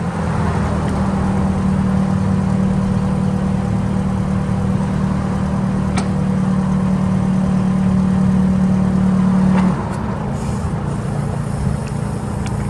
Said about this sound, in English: Smooth running LP gas engine with recent work.